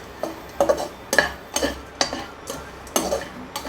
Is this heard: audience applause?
no